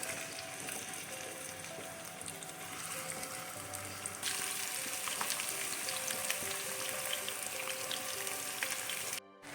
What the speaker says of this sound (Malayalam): പുരട്ടി വെച്ചിരിക്കുകയുണ്ടോ അത് നമുക്കൊന്ന് വറുത്തെടുക്കാം